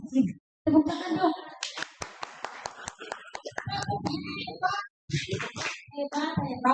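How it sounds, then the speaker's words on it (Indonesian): Children at a school leadership and orientation activity clap their hands in a scattered series of sharp, distinct claps mixed with kids' voices talking and cheering. "Tepuk tangan dong."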